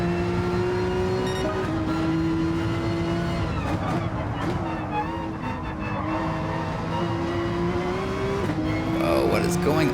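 A race car in Gran Turismo Sport drones along with a continuous engine tone while its tyres slide and squeal intermittently. The car is close and loud, and a person talks over it at times.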